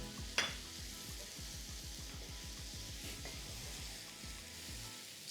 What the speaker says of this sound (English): Just give that a stir through.